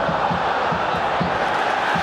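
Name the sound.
football crowd at Rangers v Celtic match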